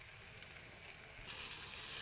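Ground spices, among them Kashmiri chilli powder and cumin powder, fry and get stirred in a kadai without water. A soft, steady sizzle runs close by and swells louder about halfway through.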